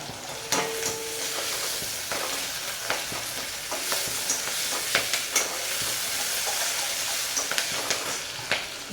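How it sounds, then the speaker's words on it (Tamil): Onions fry with turmeric powder in a pan, giving a continuous close sizzle with scattered crackles and occasional stirring scrapes throughout. "வெங்காயத்தை கூடவே மஞ்சள் பொடியும் போட்டேன்."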